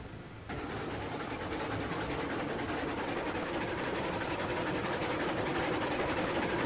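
Steam locomotive running in the Railroads Online video game, a dense steady chuffing roar that kicks in abruptly after a quiet half second and holds loud and even, with no talk.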